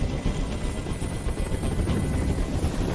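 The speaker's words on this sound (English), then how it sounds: "I can't stand that noise anymore. Tell that helicopter to get out of here." A helicopter's steady, rumbling rotor thrum in the video game Detroit: Become Human fills the whole stretch, loud and continuous without letup.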